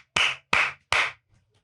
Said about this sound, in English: Everyone have a round of applause.